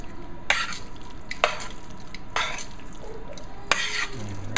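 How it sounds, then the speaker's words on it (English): Seafood is stirred into a freshly made cream sauce in a pan, with several scraping spoon strokes against the pan over a faint, steady sizzle, close and fairly quiet, with no talking. "put my seafood back into the sauce to coat the seafood with the sauce that I just made"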